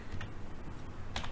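Typing on a computer keyboard while entering MATLAB code: a few soft, quick keystrokes, spaced apart, over a low background hum, fairly faint and with no talking.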